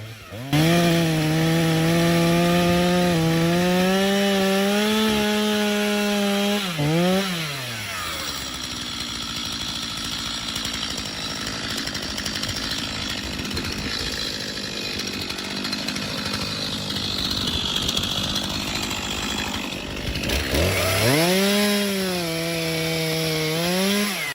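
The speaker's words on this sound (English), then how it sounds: "A group of workers wearing protective gear and helmets were using steel chainsaws to cut into the trunk of a large diameter tree" Steel chainsaws cutting into the trunk of a large-diameter tree in a dense forest: a loud, close engine whine that revs high, drops into a rough, grinding bite through the wood, then revs up again at the end, with no speech.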